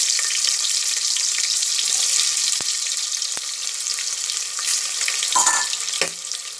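Three chopped large onions frying in a pan for an Odia-style mutton curry: a steady, fairly loud sizzle runs throughout, with a few soft clicks and a brief stir near the end.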